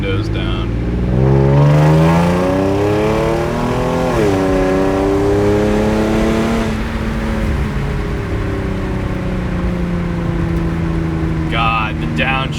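Hyundai Genesis Coupe 3.8 with a Solo Performance exhaust pulling hard with the windows down: a loud, close engine drone rising through the revs, a brief shift dip, then climbing and easing off, with a voice talking briefly near the end.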